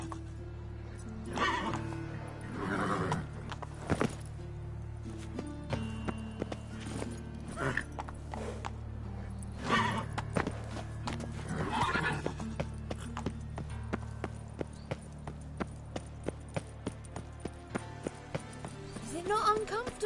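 Geralt's horse Roach in The Witcher 3 breaks into a run, hoofbeats quickening into a steady rapid clatter with occasional whinnies, while game voices talk over it.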